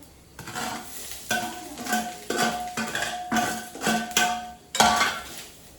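Onion and coconut roast in a pan, a steady oil sizzle broken by about six rhythmic scraping stirs of a spatula against the metal, close and moderately loud with no voices.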